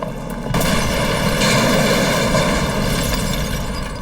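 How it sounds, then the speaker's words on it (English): Dramatized explosion sound effect for a 1974 Manhattan bombing night, a sudden loud boom breaking in and swelling into a sustained, roaring rumble that holds steady for several seconds. "5 explosions rock Manhattan."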